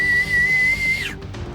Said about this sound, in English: and he just whistles.